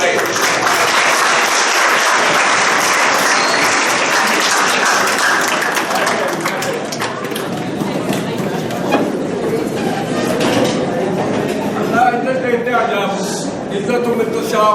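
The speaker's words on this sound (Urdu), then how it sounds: "تالیاں لگائیں ان کے لیے سارے" A gathered crowd claps for first-year students at a school assembly, loud dense applause filling the start and thinning into scattered claps, with voices talking over it throughout.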